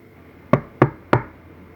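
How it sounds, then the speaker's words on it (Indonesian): Loud knocking on a front door: three sharp, heavy knocks, evenly spaced about a third of a second apart, close and alone in a quiet room. "Mendadak, pintu depan diketuk dengan lantang."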